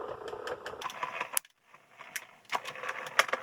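A craft die-cutting machine feeds a plate through with a run of ratcheting, clicking rolls, a brief pause, then more grinding clicks as it passes again.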